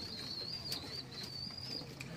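Racing pigeons in their loft make low, soft cooing with a thin high whistle-like tone running through it and occasional brief flutters, all faint and without talk.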